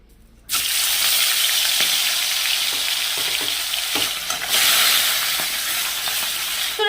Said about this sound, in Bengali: তেলটা গরম হয়ে গেছে চলো এবার আমি একটা একটা করে মাছ ছেড়ে দিই